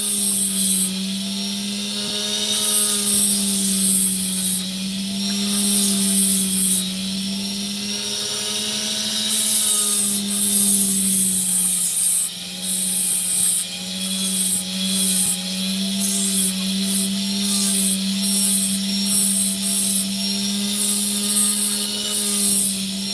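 A lapidary machine rounding off an opal stone, a steady loud motor hum with a constant whine and intermittent high grinding hiss as the stone meets the wheel.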